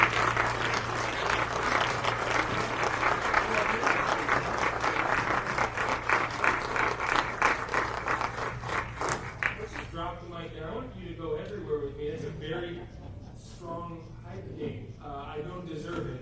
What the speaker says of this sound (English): a huge round of applause, please, for a good friend and champion of ours